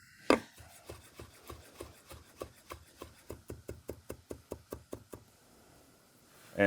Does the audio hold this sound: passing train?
no